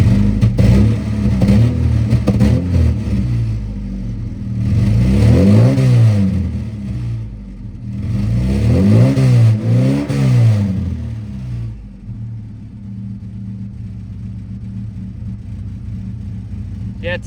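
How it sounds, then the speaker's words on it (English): The engine of a Volvo 240 with a slight misfire revs up twice in long swelling pulls, then drops back to a rough, uneven idle, loud and close. "it's still got a slight misfire"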